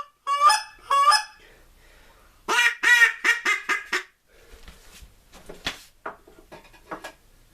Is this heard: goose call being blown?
yes